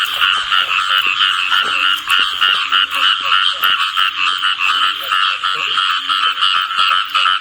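A dense chorus of frogs croaks on and on during heavy rain in a Thai village at night. Female and male frogs gather in mating pairs, and their calls throb steadily and loudly close by over the rain's hiss.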